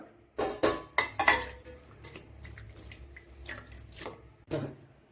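Fresh grapes being washed in water in a bowl, a series of close sloshing splashes and clinks from handling, then quieter dripping and a final splash.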